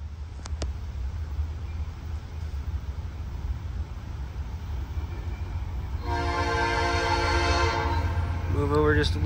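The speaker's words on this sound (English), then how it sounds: "Listen to that horn" A westbound train's horn blasts loud and sustained in Ironton, Ohio, over a continuous low rumble of passing rail cars, with a second short horn burst at the end.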